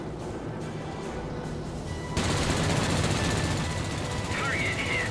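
Machine guns on a Bf 110B fighter in World of Warplanes rattle in a loud continuous burst over steady engine drone, beginning midway and running to the end.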